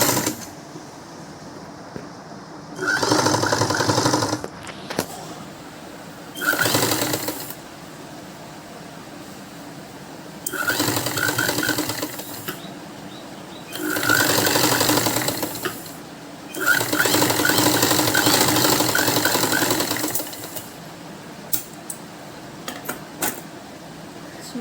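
A sewing machine stitches fabric for a baby frock, running in several loud bursts of steady whirring separated by short pauses, with no talking.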